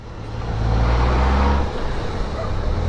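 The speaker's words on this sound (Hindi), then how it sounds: "यहाँ पे भी ट्रैफिक ब्लॉक।" Vehicle engines idling and rumbling in a traffic jam in Bairia town, a steady close low drone that swells briefly, then settles into continuous road noise with no voices.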